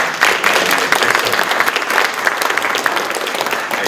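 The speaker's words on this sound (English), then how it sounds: "Another round of applause for." An audience breaks into dense, sustained applause, with many hands clapping together at an even level from start to finish.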